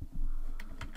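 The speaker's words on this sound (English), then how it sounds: "On this one, I'm going to type in" A few keystrokes on a computer keyboard, soft close clicks spaced irregularly across about a second, with no voice over them.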